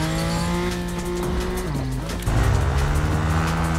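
A motorbike in Fortnite drives with a steady engine drone, its pitch dipping and shifting as the tires squeal loudly through a skid, with no talking.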